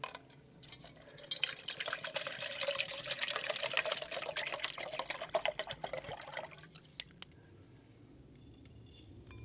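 Water pours steadily into a pot or kettle to make coffee at a winter outdoor camp cook away from a creek, a continuous close splashing stream for about seven seconds, then it stops and faint drips and handling noises follow.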